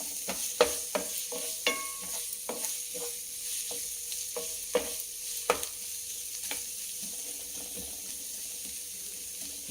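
Ginger-garlic paste with half a spoon of garam masala frying quietly in a pan for chicken fry, a soft background sizzle broken by sharp, irregular clicks and taps of a spoon stirring against the pan.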